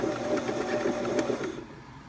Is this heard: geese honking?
no